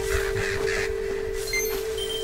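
Crows cawing in The Legend of Zelda: Echoes of Wisdom, three quick harsh caws in a row followed by a fainter call, over a steady game music drone.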